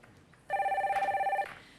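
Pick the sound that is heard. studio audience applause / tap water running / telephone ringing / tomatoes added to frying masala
telephone ringing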